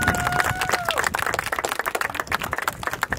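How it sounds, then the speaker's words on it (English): Audience applause at the official renaming ceremony of the John A. Bell Correctional Facility, dense broadband clapping filling the room with steady, moderately loud rhythm, while a faint tonal whistle or feedback tone sits underneath for the first second. "Please give him a big round of applause."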